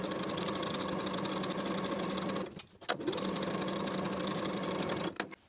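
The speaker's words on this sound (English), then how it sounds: "Sew the outer and bottom edges with a 5/8 inch seam allowance." Sewing machine stitching a 5/8 inch seam on a vintage 1960s step-in dress, a close, loud and rapid steady hum that breaks briefly midway and again near the end.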